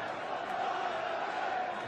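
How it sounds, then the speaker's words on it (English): A darts arena crowd cheering in support of Raymond van Barneveld during a Premier League match, a steady roar of many voices filling the hall, loud and continuous. "the crowd beginning to find their collective voices in support of the big Dutchman"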